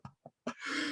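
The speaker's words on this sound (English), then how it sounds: "excuse the cough" A couple of short, close throat sounds, then a sharp cough trailing into a breathy exhale.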